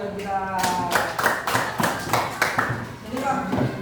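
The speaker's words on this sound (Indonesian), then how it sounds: "Beri tepuk tangan buat kita." A classroom group claps in a rhythmic pattern of distinct, evenly spaced hand claps, moderately close, mixed with voices chanting or talking over the beat.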